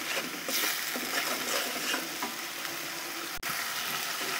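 Masala and onions stir-fried in a pan while preparing rohu fish: a steady, close sizzle with soft scraping from stirring and a single sharp click near the end.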